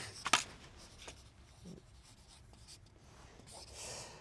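A pen writes on a blank sheet of paper, giving faint, scattered scratchy strokes in a quiet room.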